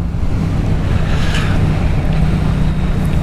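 A Yamaha MT-07 naked motorcycle cruises in fifth gear, heard mostly as loud, steady wind buffeting across the microphone, with a low engine hum underneath and no talking.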